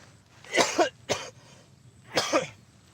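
Three close, harsh coughs in quick succession, the last one a double cough, with quiet pauses between.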